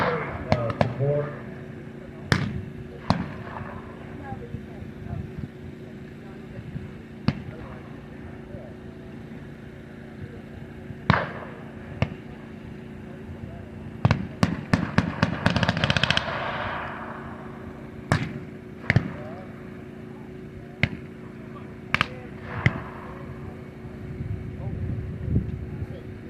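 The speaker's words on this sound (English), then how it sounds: "We're starting to move forward, doing a firing maneuver." Blank rounds fire during a WWII battle reenactment: sharp single shots scattered throughout, then a tight volley of rapid fire midway, all heard at moderate distance over a steady background hum with voices around.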